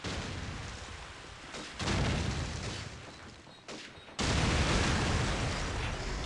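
In Call of Duty 4, a grenade explosion and heavy blast noise arrive as loud, roaring bursts of rumble that swell in abrupt steps and stay sustained.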